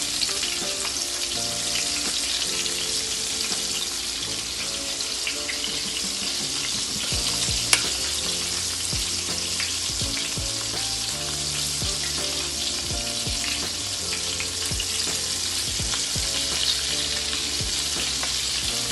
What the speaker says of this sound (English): because I have a nice big frying pan, everything going in there, one shot